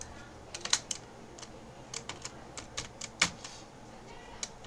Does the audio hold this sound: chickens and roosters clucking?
no